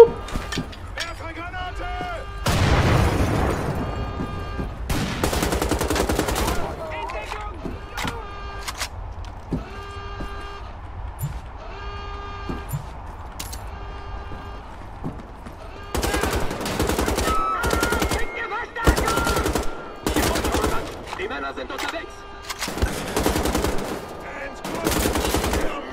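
Assault rifle gunfire in Wolfenstein: The Old Blood, with repeated bursts of loud automatic fire separated by quieter stretches of game ambience, and a voice talking at times between the volleys.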